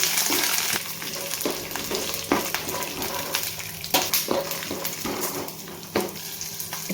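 Green chillies and paneer fry in a little oil in a kadai, giving a steady crackling sizzle with repeated sharp clicks and scrapes as the pieces are stirred, close and fairly loud with no talking.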